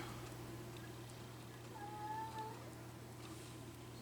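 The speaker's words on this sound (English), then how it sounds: "I don't know if you can hear my cat, but she's in there just bawling about something." A cat meows once, faint and distant, over a steady low hum.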